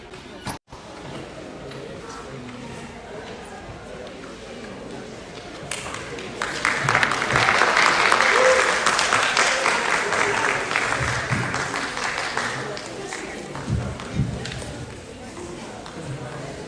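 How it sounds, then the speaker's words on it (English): Audience applause at an essay competition grand finale, swelling into a loud, sustained round of clapping that peaks midway and gradually tapers, with a voice talking over it. "let's put our hands together. Continue clapping now."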